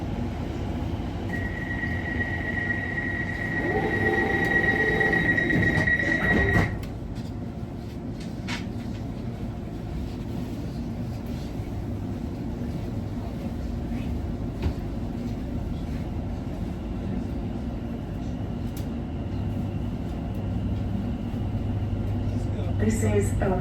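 A London Overground Weaver Line train runs toward Liverpool Street, with a continuous low rumble and rattle of the carriage throughout. A whining tone rises early before a clunk, and a voice announcement plays over the steady interior noise.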